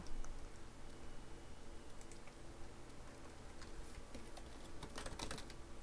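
A few faint, scattered clicks of Ctrl and Shift keys being pressed on a computer keyboard during PowerPoint shape editing, sitting over a low steady room hum with no talking.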